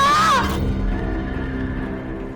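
A horse neighs once, a short high whinny that falls in pitch, followed by a low lingering tone as the sound fades, close and fairly loud.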